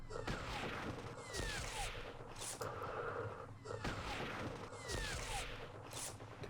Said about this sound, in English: We do have a machine gun here, though. Let's unload.